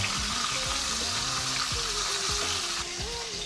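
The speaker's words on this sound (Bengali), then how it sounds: "তাওয়াতে তেল গরম করেছি, হলুদ মাছকে হালকা করে ভেজে নেব।" Hilsa fish frying in hot oil on a tawa, giving a dense, continuous close sizzle that stays steady throughout, with a faint low tonal hum underneath.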